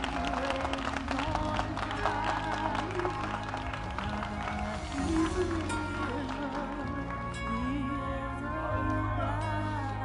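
A church congregation claps along in rhythm during lively worship, the hand claps mixing with music and singing voices at a moderate level for the whole stretch.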